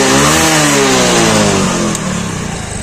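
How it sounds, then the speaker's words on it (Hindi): A motorcycle engine started with its electric self-starter catches and revs up, loud and close, its throbbing note slowing and easing off after about two seconds. "यहाँ पे भी क्या देखा कि बाइक सेल्फ से भी स्टार्ट होने लगी है"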